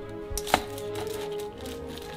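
A knife slices through a toaster-cooked egg, giving one sharp, close cut near the start, then a quiet faint scrape against a low background hum.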